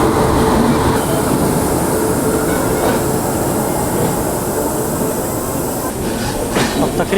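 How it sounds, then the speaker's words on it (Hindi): The Shri Mata Vaishno Devi Katra Bandra Swaraj Express rolls into platform 2 at Jammu Tawi, a loud, steady rumble of wheels and carriages with rhythmic clatter throughout, close by and continuous. "यहाँ प्लेटफॉर्म नंबर 2 पर आ रही है श्री माता वैष्णो देवी कटरा बांद्रा"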